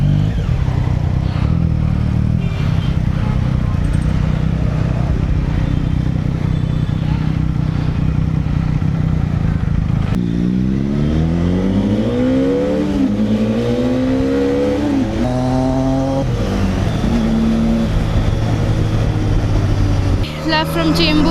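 A Triumph Daytona 675R superbike rumbles at idle, then revs and climbs through gears with rising and falling engine pitch as it rides off, loud and close throughout.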